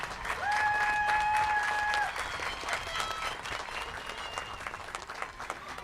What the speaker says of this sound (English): I would like a big round of applause once again for the class of 2022.